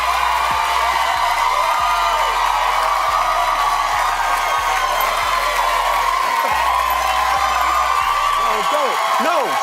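A studio audience cheers and claps loudly, whooping and shouting voices rising over continuous applause for nearly ten seconds.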